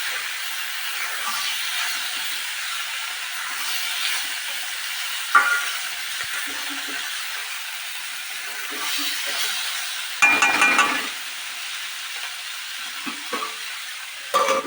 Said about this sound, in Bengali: খুলে আবার একদম নেবে একবার একবার নাড়তে নাড়তে আমার ভাজিটা কমপ্লিট হয়ে যাবে